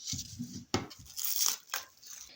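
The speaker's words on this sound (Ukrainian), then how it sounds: "Накриваю плівкою наш фарш" Plastic cling film crinkling as it is spread over a layer of minced meat on a table, a few close, soft rustles and crackles with a sharper snap partway through.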